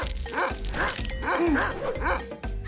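A dog gives a run of short yips and bow-wow barks, about four to five quick whimpering yelps in close succession, near and fairly loud.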